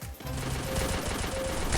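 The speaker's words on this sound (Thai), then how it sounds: "เสียงปืนเต็มเลยเมื่อกี้" Dense, rapid bursts of automatic gunfire in the game Free Fire rattle continuously, busy and layered like a firefight, with no voices over it.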